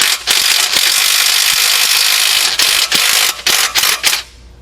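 A ratchet wrench backs off the main bearing bolts on an ISX engine during a rebuild, giving loud, close, rapid clicking in continuous runs that break into a few shorter bursts before stopping.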